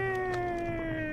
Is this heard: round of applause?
no